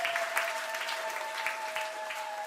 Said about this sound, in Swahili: Tuwapigie makofi watoto wote.